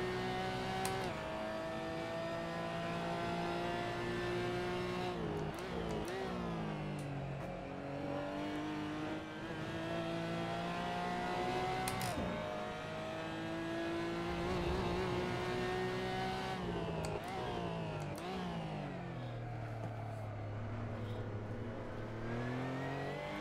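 A Porsche GT4 Clubsport race car engine in a sim racing championship at Donington Park, revving and shifting gears with rising and falling pitch sweeps, steady and prominent throughout, other cars faintly passing.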